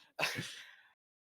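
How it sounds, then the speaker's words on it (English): A single short sneeze from a caster during an Overwatch match broadcast, a brief, fairly quiet burst, alone and close by. "I am sneezing up a storm"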